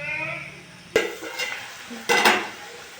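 Curry frying in a pan, a soft steady sizzle broken by two brief bursts of stirring or lid clatter near the start and about two seconds in, close and moderately loud.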